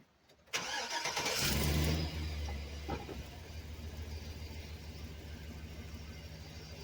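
A truck engine cranks and catches with a loud roar, then settles into a steady idle rumble that continues for several seconds, close by and with no talk.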